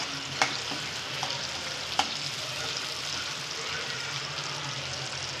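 Chopped tomato frying with salt in a spiced masala in a pan, a steady broad sizzle throughout with a couple of sharp utensil taps early on, close and fairly loud, no voices.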